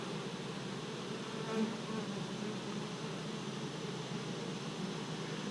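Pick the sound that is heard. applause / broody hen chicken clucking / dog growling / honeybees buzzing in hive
honeybees buzzing in hive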